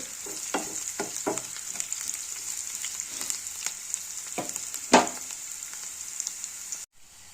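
Onions sizzle steadily in a pan for sambar, with close spatula stirring and scraping clicks over the frying hiss, and one sharper clatter before the sound cuts off.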